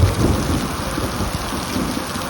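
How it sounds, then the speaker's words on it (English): Heavy rain pouring down steadily on an Airstream travel trailer, a dense roar of drops hitting surfaces with low rumbling underneath, no talking. "So it's still pouring rain."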